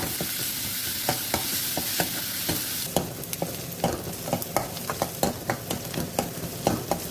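A spice mix frying in a pan on the stove is stirred steadily until it reddens, for a Palakkad-style cowpea curry. A constant close sizzle runs under repeated sharp scraping clicks from the spoon, with no talking.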